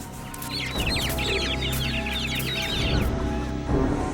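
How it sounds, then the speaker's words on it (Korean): Flock of about thirty chicks cheeping, a dense chorus of rapid high peeps going on continuously and close, over a low background hum. "인수 씨는 3 0 마리의 병아리를 모두 없애버리게 됩니다"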